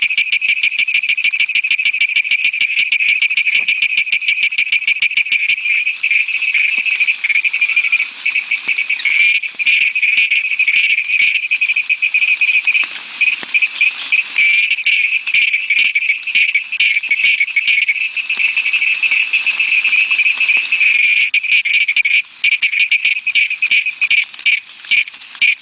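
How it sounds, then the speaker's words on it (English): A Malabar Tree Toad calls in a dense, rapid stream of rattling, high-pitched pulses that runs steadily and loudly throughout, with brief thinner stretches and no voices. "which is Malabar Tree Toad"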